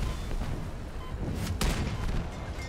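Auto cannons firing in the vehicle-combat game Crossout: a few heavy booming shots over a dense rumbling battle din, one sharp blast standing out near the middle.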